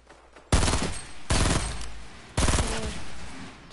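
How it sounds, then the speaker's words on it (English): Automatic gunfire rattles out in three loud bursts, each a rapid string of sharp cracks cutting in suddenly and trailing off, with quieter stretches between them in a video game firefight. "they're shooting up"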